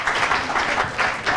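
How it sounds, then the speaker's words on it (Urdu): A studio audience at a Ramzan transmission TV show applauds, a dense burst of clapping lasting the whole moment. "تالیاں بجا دیجیے بھائی کے لیے"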